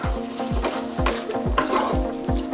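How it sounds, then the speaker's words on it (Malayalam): Close spatula scrapes stir sesame seeds into honey chilli potatoes in a pan, a quick regular rhythm of about six strokes over a soft sizzle, no talk. "ഇതിലോട്ട് ഒരു 1 table spoon sesame seeds add ചെയ്യുക. ജസ്റ്റ് ഒന്ന് മിക്സ് ചെയ്തെടുക്കുക."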